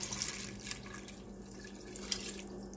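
Beef broth, about four cups, poured from a container over macaroni noodles in a pot for cheeseburger macaroni, a steady close liquid splashing and trickling with a few brief drips, no talking.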